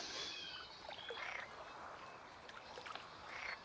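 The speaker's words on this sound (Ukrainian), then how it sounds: "Жаби квакають." Frogs croak in the Last Day On Earth: Survival video game, with a few soft, rounded calls rising out of a steady hiss of ambient background noise at moderate distance.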